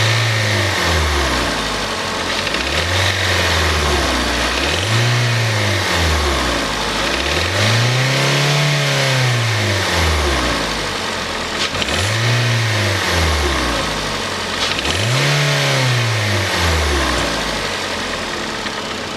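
A car engine with a knock, running after an Engine Restore treatment, revs up and down repeatedly in a steady cycle, loud and close with a constant mechanical clatter underneath and no talking.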